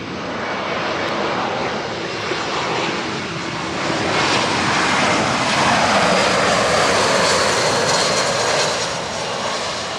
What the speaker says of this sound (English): So there's a plane coming there.